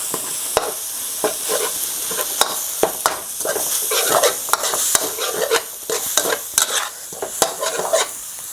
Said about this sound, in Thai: ใส่ปลาลงไปครับ แล้วก็นำซอสมะเขือเทศนะครับ ลงไปครับ ผัด ผัดนะครับ